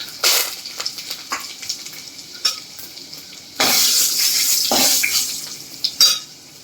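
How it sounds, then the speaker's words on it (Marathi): Garlic dropped into hot oil already crackling with mustard seeds and cumin for a tadka, giving bursts of loud close sizzling and frying alongside stirring and a clink of utensils against the pan. "थोडं लसूण टाकायचं आहे फोडणीला"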